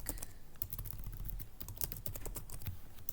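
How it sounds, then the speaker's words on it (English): Slow, uneven typing on a computer keyboard, individual key clicks close and distinct over a steady low background hum, with no talking. "Don't mind my typing, it's really slow."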